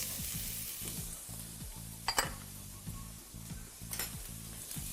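Onion sweating in a pan, a faint even sizzle under a low rhythmic hum, with a few short stirring scrapes and light clinks of a utensil.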